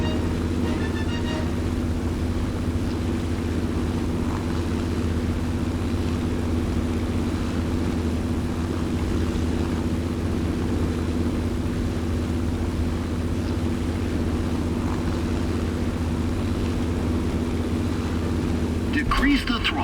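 Plane engine in the War Thunder video game during a landing approach, a steady low droning hum with a constant rumble that runs throughout, moderately loud and without change.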